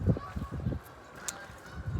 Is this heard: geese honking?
yes